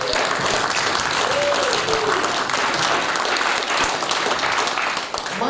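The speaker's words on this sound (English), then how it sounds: "So we get a big round of applause, please." An audience at a stand-up comedy show applauds, a dense, steady wash of clapping that fills the clip, with faint voices mixed in.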